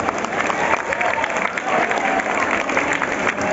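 Steady, dense applause from a large audience fills a stadium at the Kaushal Mahotsav skills event, loud and continuous with a faint crowd murmur underneath.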